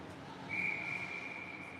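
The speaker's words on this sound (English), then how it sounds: "held for the whistle" A referee's whistle blows at a youth ice hockey game, a single steady shrill blast lasting about a second over the echoing hum of the rink, with no talking.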